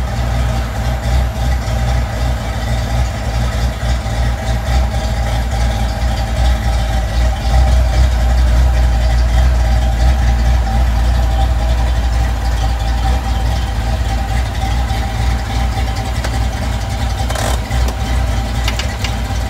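A Foxbody Mustang idles steadily as it is backed out, a constant low engine rumble at fairly close range with a faint higher whine above it and no speech.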